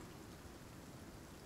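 Steady, dense rain falls in the survival game Icarus, a constant soft hiss of drops with no gaps or talk, heard at close range and moderate loudness throughout.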